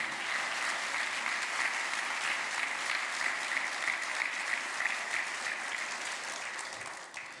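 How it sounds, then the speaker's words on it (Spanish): A church congregation applauds during a Spanish-language sermon, a dense, steady wash of many hands clapping at an even level for the whole stretch, with no voices on top. "Si le va a dar un aplauso, es para el Señor."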